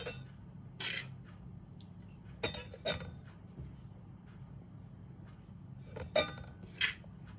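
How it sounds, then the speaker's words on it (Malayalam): A metal spoon clinks and scrapes against a puttu maker while cholam puttu flour and grated coconut are filled in, giving a few bright, separate metallic taps spread over a quiet, low background hum. "ഇനി നമുക്ക് പുട്ടിൻ്റെ പൊടി ഇതിലേക്ക് നിറയ്ക്കാം."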